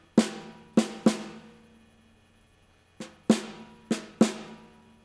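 Drum strikes from a robotic prosthetic arm holding the stick with a looser grip: three hits, a pause, then four more, each ringing briefly with a slightly softer, varied attack, heard alone.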